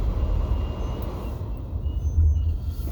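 A Jeep Gladiator rolls over a curb on a snowy downtown street, a steady low engine rumble with muffled tire and body noise, close and continuous.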